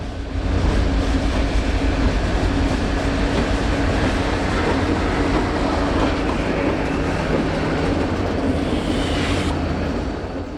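A loud, steady rumble of a Vermont Rail System freight train rolling past on rails, with continuous wheel noise and metallic clatter throughout.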